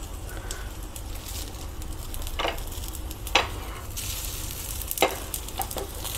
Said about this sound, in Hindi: थोड़ा सा साइडों में आप लगा सकते हैं तेल को